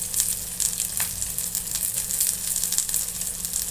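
Chopped pointed gourd (potol) fries in a pan with a steady, loud sizzle and crackle. Small pops spatter throughout, and no one speaks.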